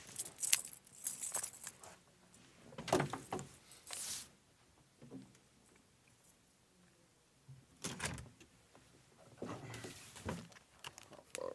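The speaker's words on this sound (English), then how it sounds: "She left her keys in my car." A set of keys jangles close by in several short bursts, rattling for a second or so at a time with quiet gaps between them; nobody speaks.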